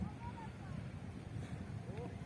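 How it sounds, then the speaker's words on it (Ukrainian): Low rumbling engine hum of boats on the Ruhr river in Witten, with wind buffeting the microphone and faint voices in the background. "Опа, доплыл уже катера ходят."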